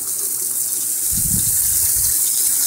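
Water gushes onto aquaponic grow media as it is hosed down and soaked outdoors on a balcony, a brief swelling splash over steady background hiss, with no talking.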